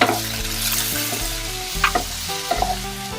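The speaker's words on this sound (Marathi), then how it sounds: "असा टोमॅटो पण चांगला भाजून घ्यायचा, त्याच्यात एकजीव करायचा" Tomatoes sizzling and being stirred in a pan for Kolhapuri masala, close and moderately loud, with a steady fry texture broken by scraping strokes and small clinks, and no talking.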